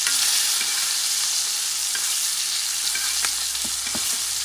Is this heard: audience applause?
no